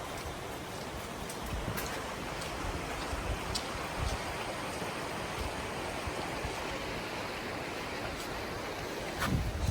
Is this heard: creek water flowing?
yes